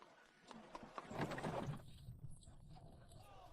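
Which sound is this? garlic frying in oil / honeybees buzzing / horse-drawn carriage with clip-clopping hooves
horse-drawn carriage with clip-clopping hooves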